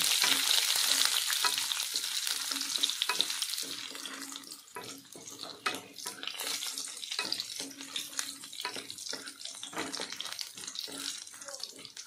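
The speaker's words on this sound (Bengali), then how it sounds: "এবার আমি এর মধ্যে 8-10টা কোয়া রসুন দিয়ে দিলাম। ভালোভাবে ভেজে নেব।" Garlic cloves, eight to ten, fry in oil with chilli and five-spice seeds for a coriander pickle, a loud steady sizzle that fades somewhat midway, broken by scraping stirs.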